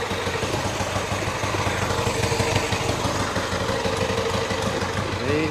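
A Yamaha GT80 motorcycle, a once-seized small engine now warmed up, idles steadily and loudly close by with a constant buzzing drone.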